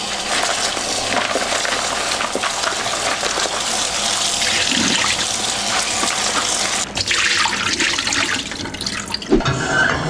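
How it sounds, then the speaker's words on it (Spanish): Tap water runs loudly and steadily into a sink while menudo tripe is rinsed beneath it, with a brief shift in the splashing near the end. "antes de remojarlo con agua caliente, quiero darle una enjuagadita porque a veces trae tierrita"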